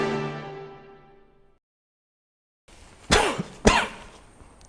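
A person coughs twice in sharp, close bursts after a fading musical tone and a short silence, with no talking around the coughs.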